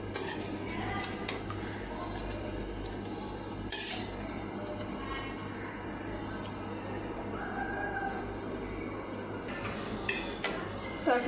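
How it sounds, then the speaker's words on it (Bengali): Hilsa fish curry served onto a plate, light clinks and scrapes of utensils over a steady background hum, with a rooster crowing faintly in the distance. "আমি একটা প্লেটে বেড়ে নিছি।"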